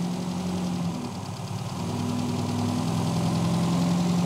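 An A-Series engine in a Mini rat rod idles steadily with a low, even hum and faint vibration, close up and with no talking.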